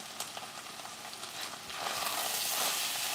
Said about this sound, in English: Have to keep it stirred so it won't stick